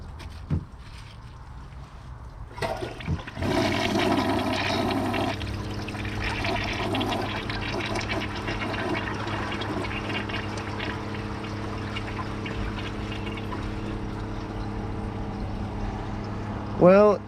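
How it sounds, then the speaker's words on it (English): A 1986 Kohler Wellworth toilet flushes while its trapway is clogged with a grocery bag and a microfiber rag. After a short pause, a loud, sustained rush of swirling water runs steadily for about fourteen seconds and ends with a brief gurgle. "I think it has a chance of taking it in one flush"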